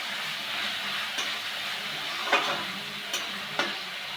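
Fish masala sautéing in a pan with a splash of water makes a soft, steady sizzle, broken by a few sharp scrapes and clicks of stirring; no one is talking.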